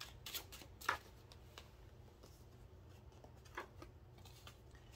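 Quiet riffling and soft flicks of tarot cards being shuffled, a few sharper snaps standing out against faint room hiss.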